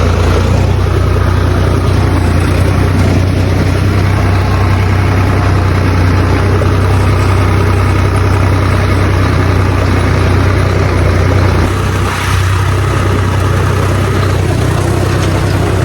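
A loud tractor engine runs steadily throughout on a farm, with a heavy, constant low rumble and no pauses.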